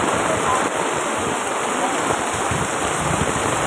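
Heavy rainwater pours and drips off a building in a steady, loud, close rushing splatter that never lets up.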